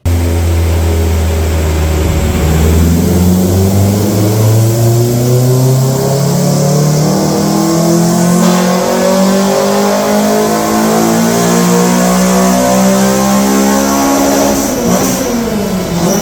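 A tuned MK1 car rated at 150 kW and 207 Nm revs hard, its loud engine note climbing steadily for a sustained stretch, heard close with no talking.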